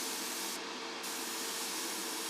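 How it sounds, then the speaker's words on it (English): An airbrush sprays white paint while finishing a Tamiya 1:12 scale Yamaha RZ250 model kit, giving a steady, soft airy hiss that runs evenly and close throughout, with no talking. "I'm just going to pull the paint through. As it's starting to come through, it's spraying nice"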